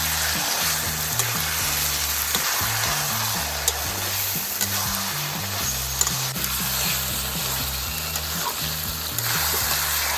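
Hyderabadi chicken masala with yogurt sizzling and frying in oil as it is stirred in a pan, a steady loud crackle broken by repeated scraping strokes of the spoon, with no talking.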